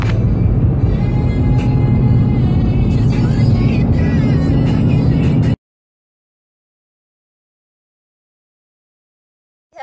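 A car driving on the road on the way to an autocross event, with a loud, steady engine and road rumble for about five seconds before it cuts to silence.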